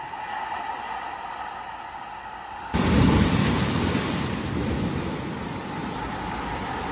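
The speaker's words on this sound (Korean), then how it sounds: "파도 소리 가득한 이사부에" Steady roaring surf on the coast at Samcheok, South Korea, at night, with a broad wash of water noise that swells suddenly louder partway through and stays full, no voices.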